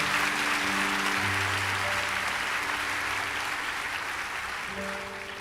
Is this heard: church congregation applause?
yes